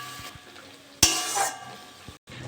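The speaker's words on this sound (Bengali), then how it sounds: "ভালো করে নেড়ে চেড়ে নিয়েছি" A spoon briefly scrapes and stirs tomato chutney in a pan, one short clear stroke over a quiet, faint background hiss.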